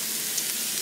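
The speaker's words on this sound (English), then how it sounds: "Push them all down here in the oil." Food frying in hot oil makes a steady, close hiss and crackle that carries on without a break, with no voices over it.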